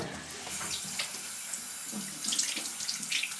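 Tap water runs steadily into a basin with splashing as hands scoop and rinse while washing off makeup, close and continuous.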